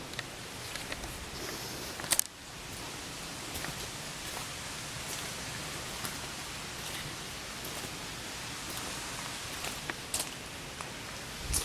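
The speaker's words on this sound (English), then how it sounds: "starting to rain a little bit more now" Rain falls steadily outdoors at Beauchief Abbey in Sheffield, a continuous close hiss of patter with a brief louder knock partway through, and no voices.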